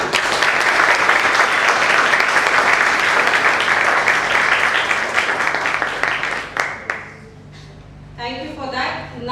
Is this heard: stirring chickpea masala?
no